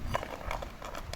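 Don horse hooves clip-clopping as it runs, a quick, light run of soft, irregular hoof thuds at moderate distance, steady throughout the short stretch with no voices.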